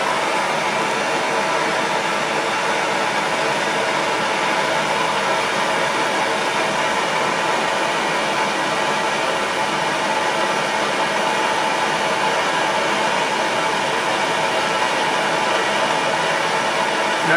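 A torch flame roars steadily and evenly as it heats a glass rod, a continuous broadband hiss that holds at the same level for the whole stretch with no talking.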